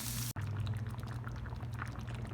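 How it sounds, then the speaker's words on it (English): Cube steak simmers in gravy in a pan, giving a faint, steady bubbling and gentle sizzle over a low background hum, with no voices. "we have all of the cube steak in the pan, and it is simmering so well"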